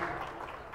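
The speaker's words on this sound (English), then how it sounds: "the crowd rising to their feet, a socially distant crowd, and applauding both teams in this final game of the season" A socially distanced crowd at a girls' varsity high school basketball game applauds both teams after the season's final game, a soft, steady patter of clapping heard faintly from a distance.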